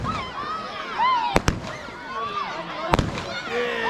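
A multi-shot firework barrage on Bonfire Night: several sharp pops and cracks in quick pairs, with whistling tones rising and falling between them. Moderately close.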